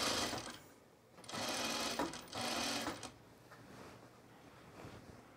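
A sewing machine runs a long side seam on a pair of culottes, whirring in two sustained bursts with a brief pause between and quieter stitching afterward, moderately close with no talk.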